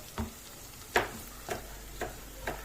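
Onions and peppers sauté in a pan for a Turkish eggplant dish with kavurma, a soft steady sizzle broken by five sharp scraping stir strokes at uneven intervals.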